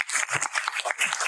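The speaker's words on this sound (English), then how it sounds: "Applause for Johannes." A symposium audience applauds an organizer in a short, dense burst of clapping that runs the whole way through.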